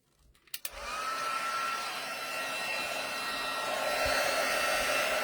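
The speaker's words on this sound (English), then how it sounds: "let's get our heat tool going" Embossing heat tool blowing hot air over embossing powder on a card sentiment, a steady loud hair-dryer-like whoosh starting after a couple of faint clicks and holding without pause.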